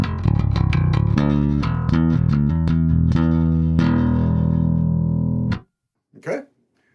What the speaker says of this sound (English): this is the sound of the bass going direct straight through the speaker cabinet